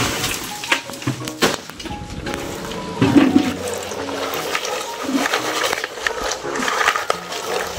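Fresh raw groundnuts in their shells are washed in water in a village home, with continuous close splashing and sloshing and a brief louder swirl partway through.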